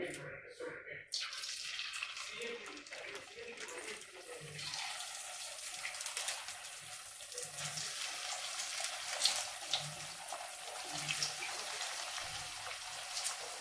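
Rice flour thattai frying in hot oil, heard as a steady, close bubbling sizzle that builds and continues throughout, with a voice speaking now and then underneath.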